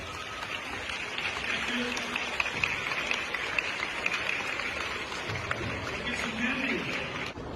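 Schoolchildren at a morning assembly clap together in a sustained, dense patter that fills the room, with a few adult voices speaking over the applause.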